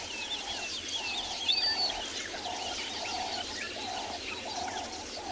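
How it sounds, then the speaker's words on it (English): Birds sing and chirp around a watering hole at sunrise on a South African morning safari, with bright twittering calls over a steady, repeating lower call that runs through the whole stretch at moderate distance, with no talking. "It's quite a beautiful sound in this watering hole here. All birds singing about, getting excited since the sun is coming up."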